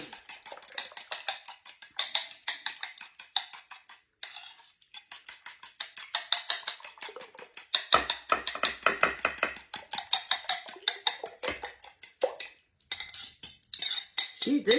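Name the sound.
mixing cake batter in a bowl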